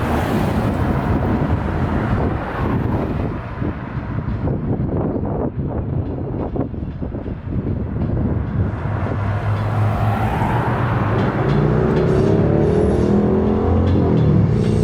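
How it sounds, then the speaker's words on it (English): Steady, loud rumble of road traffic on a busy town street fills the scene, with low engine drone and wind-like whoosh rising and falling throughout. "the traffic noise will be a persistent problem this afternoon"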